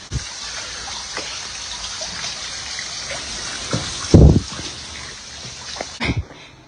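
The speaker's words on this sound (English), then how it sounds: "The pipes done bursted in here. The pipes are busted." Water gushes and splashes from burst pipes inside a large building, a running wash with a few louder surges and scattered knocks and splashes, with no talking.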